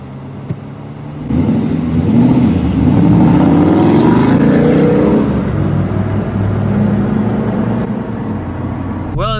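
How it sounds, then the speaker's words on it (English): A Ford Coyote V8 in an S650 Mustang revs up loud and close, the engine note rising and swelling over several seconds before easing back, with a steady rumble underneath and a brief faint squeak at the end. "that is the beautiful sound of the Coyote V8"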